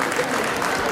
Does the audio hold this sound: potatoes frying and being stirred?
no